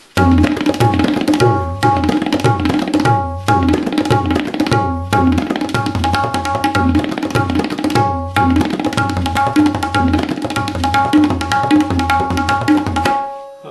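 Tabla kaida number 8 played three times at speed, crisp ringing treble strokes over pulsing bass bols, with short gaps marking the phrase repeats.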